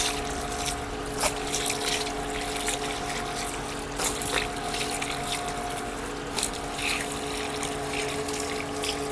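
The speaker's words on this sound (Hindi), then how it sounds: "पाइप नीचे आ रहा है, पानी आ गया आपके ऊपर।" Water running steadily from a hose pipe during blanket washing, a continuous close splashing and trickling flow with a low pump-like hum and a few brief clatters.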